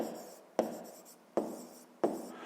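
Handwriting on paper during a sixth-grade maths exercise: quiet pen strokes scratch along, broken by three sharp taps as the pen lands, close and soft with no talking.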